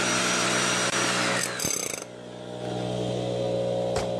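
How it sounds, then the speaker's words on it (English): Hammer drill pounding through hard quartz stone while digging a French drain outdoors, a loud steady mechanical roar that briefly drops and then resumes, with no talking. "hammer drill's getting through it"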